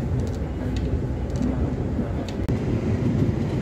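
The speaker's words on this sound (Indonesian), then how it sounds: "Saat ini perjalanan kereta api Argo Sindoro yang saya tumpangi baru saja berjalan langsung di stasiun Bekasi Timur." Argo Sindoro passenger train rolling through Bekasi Timur station, heard from inside the carriage as a steady low rumble of wheels on rail with faint clicks and one sharp knock midway.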